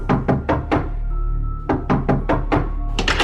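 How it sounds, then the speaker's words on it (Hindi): Knocking on a door in a horror story setting: two bursts of firm, close thunks, four quick raps, a short pause, then another run of four or five knocks, loud against a low steady hum. "बाहर दरवाजे पर हो रही थी दस्तक"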